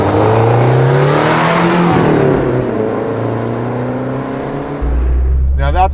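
A 1989 Lancia Delta Integrale 16V rally car with about 200 horsepower pulls hard from inside the cabin. The engine note climbs loudly through a rising rev sweep, drops back at a shift, then drones on with a low rumble near the end.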